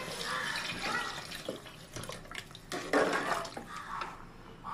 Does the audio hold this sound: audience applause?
no